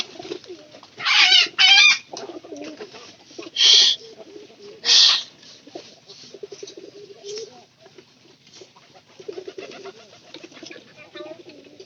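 Domestic pigeons kept at home coo close by in low, throaty murmurs. Several louder, breathy bursts stand out early on, then a softer, continuous burbling carries on to the end, with no speech.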